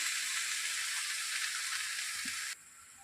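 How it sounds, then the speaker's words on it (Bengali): Bottle gourd leaves sizzle steadily in a hot pan, a soft even crackle that cuts off abruptly near the end. "আমি এইভাবে আলকা হাতে নেড়ে ছেড়ে ভেজে নিচ্ছি"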